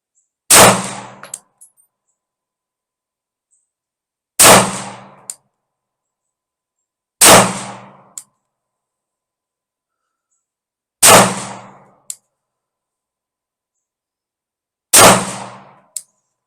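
Five sharp 9mm pistol shots fired at a steady pace, roughly four seconds apart, each a loud crack with a short ringing tail, with silence between rounds.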